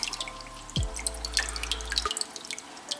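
Small droplets plink and trickle into an aquarium, soft and close, with a faint low hum that cuts out partway through.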